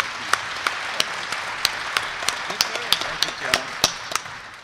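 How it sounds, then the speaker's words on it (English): An audience applauds at a bluegrass concert: a steady wash of clapping lasting several seconds, with sharp individual claps popping out above the crowd at a moderate distance. "Give him a great round of applause,"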